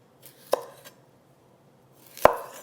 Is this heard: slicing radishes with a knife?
yes